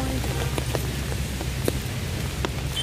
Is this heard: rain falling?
yes